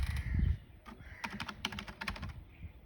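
Typing on an HP KB 1156 PS/2 wired keyboard: bursts of fast, close clicking keystrokes in an uneven rhythm, fairly quiet, with no talking.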